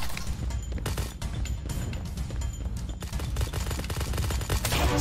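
Rapid gunfire bursts in the mobile shooter game Hyper Front Mobile crackle in dense, loud sequences with brief gaps, close and without talk.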